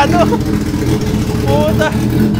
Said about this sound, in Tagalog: Tunog palyado.